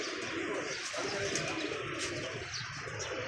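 Pigeons coo softly from a rooftop loft, a faint low murmur of birds under steady background noise throughout the short stretch.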